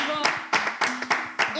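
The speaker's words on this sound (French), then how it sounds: "On applaudit Nazir quand même" An audience claps in quick, uneven bursts of hand claps, close and fairly loud, alongside a speaking voice.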